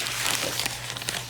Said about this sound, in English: Very carefully snip this open with this scissors. I love this bag.